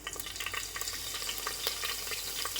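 Mustard seeds and cumin crackling in hot oil for sambar, a steady dense sizzle with scattered sharp pops throughout, fairly quiet and with no voices.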